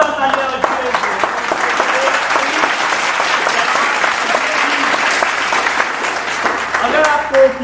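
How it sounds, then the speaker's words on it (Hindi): Studio audience applause on a quiz game show, loud and sustained clapping from many hands with a few vocal cheers and a voice rising over it near the end. "जोरदार तालियां बजाइए"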